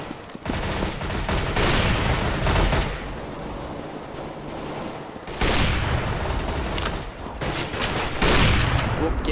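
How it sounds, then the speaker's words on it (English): Rapid automatic rifle fire rattles in Counter-Strike: Global Offensive team deathmatch, loud dense bursts in several volleys with brief lulls between, a player talking faintly underneath. "Whoop, get shot at."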